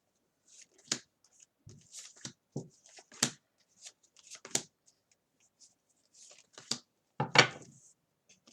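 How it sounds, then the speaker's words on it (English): Soft, sporadic riffles and snaps of a tarot deck being shuffled by hand, quiet and close, in short irregular bursts. "Usually I pause, so you don't have to hear me shuffle."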